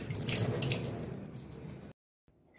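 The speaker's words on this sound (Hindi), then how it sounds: "तो चलिए मैंने पनीर काट के तैयार कर लिया, इसको थोड़ा सा धो लेती हूँ एक बार" Tap water runs steadily over freshly cut paneer in a home kitchen sink, a close, gurgling flow that cuts off abruptly, followed by a quieter trickle.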